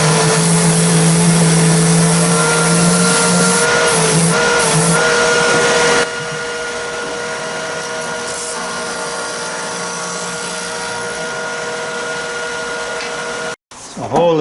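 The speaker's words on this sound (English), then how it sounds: "So we'll cut that out the bandsaw and clean up on the disc sander." A bandsaw cuts wood for a wooden boat build, a loud whining drone that shifts partway through to the lower, steadier hum of a disc sander in the workshop.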